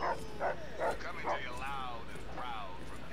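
A dog in the video game Fallout 3 gives a run of four short, evenly spaced barks, followed by a few whimpering, whining yelps, at moderate level over a faint steady hum.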